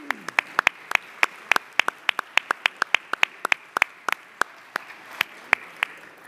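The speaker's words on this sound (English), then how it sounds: "So I want to give Brian Crow a big round of applause." Sparse applause in a city council chamber: a handful of people clap in scattered, crisp individual claps over about six seconds, fairly near and with no talk over them.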